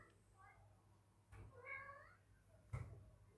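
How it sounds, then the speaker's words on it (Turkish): A cat meows indoors at home, giving two or three short mews that rise and fall, a little distant and fairly quiet. A low thump and a knock sound between them. "miyavlıyor"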